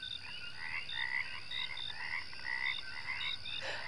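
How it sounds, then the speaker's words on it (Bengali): A chorus of frogs croaks from a nearby ditch on a rainy night, many overlapping calls pulsing in a steady rhythm at moderate distance, with no other sounds around them. "আশেপাশের ডোবা থেকে ব্যাঙের কোরাস ভেসে আসছে"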